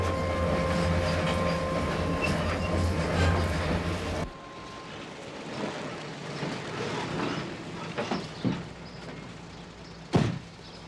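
A train rolls past on rails, loud and close for the first four seconds with a steady rumble, then drops to a fainter rattle with a few sharp clanks near the end.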